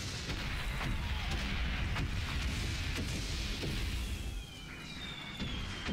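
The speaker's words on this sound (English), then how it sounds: "Avoiding artillery shells." Artillery shells burst in rapid succession in a World War I battlefield scene from the video game Valiant Hearts, a dense, continuous barrage of booms and blasts with no voices over it.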